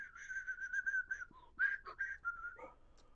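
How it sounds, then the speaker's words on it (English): A man whistles an aimless, wandering tune at close range, a steady stream of thin melodic notes with brief pauses, faint and alone in a quiet room during a watercolour painting session. "this stupid nothing whistle"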